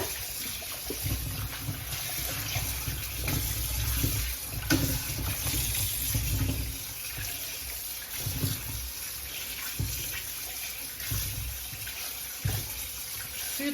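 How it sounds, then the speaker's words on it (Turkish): Cucumbers are washed under a running kitchen tap, a steady splashing stream of water broken by louder bursts as the vegetables are handled beneath it. "Şöyle güzelce yıkayacağım bunları."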